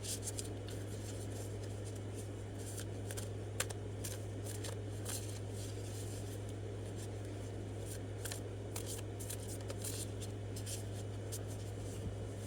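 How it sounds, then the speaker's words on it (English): Tarot cards being shuffled by hand make a soft, continuous rustle with scattered light flicks and snaps. The sound is close and quiet over a faint steady hum, with no talking. "while I'm shuffling the cards"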